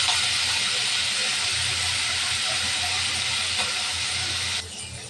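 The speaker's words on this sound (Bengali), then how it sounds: "তেল গরম হয়ে গেছে, দিয়ে দিব মাছ।" Shrimp sizzle steadily in hot oil in a home kitchen, a loud continuous frying hiss that drops slightly just before the end.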